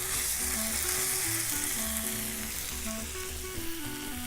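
Stuffed beef fillet searing in a hot pan, a constant dense sizzle close by with faint background music, no talk.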